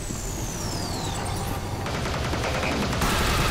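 Rapid gunfire bursts in The Bureau video game, a dense crackling fusillade filling the whole stretch, with no talk over it.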